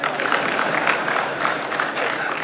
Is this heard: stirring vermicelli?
no